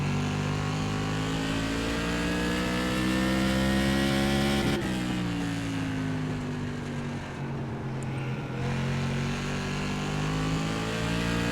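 Loud, steady engine roar of a Tour Modified open-wheel race car at Stafford Speedway in iRacing, sustained with layered harmonics and a brief pitch dip as it lifts and pulls again, no talk over it.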